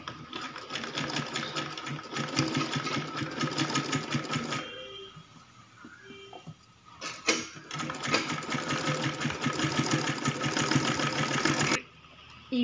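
A sewing machine stitches a one-side lace blouse back neck in loud, steady bursts of rapid mechanical whirring, pausing briefly in the middle with a few soft clicks before resuming, then stopping near the end.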